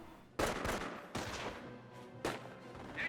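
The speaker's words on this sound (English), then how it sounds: "Got multiple MG42s here." MG42 machine guns fire in a Company of Heroes battle, with loud bursts of rapid automatic gunfire and sharp reports at close to middle distance, some overlapping, and no voices.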